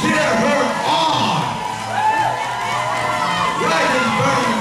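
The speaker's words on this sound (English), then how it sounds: "Give her some love, ladies and gentlemen. Cheer her on." A roller derby crowd cheers and whoops at a bout, loud and close, with shouts and high voices rising over continuous crowd noise.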